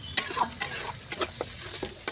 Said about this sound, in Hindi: मसाला तेल में डाल के अच्छे से फ्राई करें।